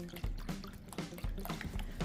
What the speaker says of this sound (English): mix that up into a slurry, and we'll pour that into our pan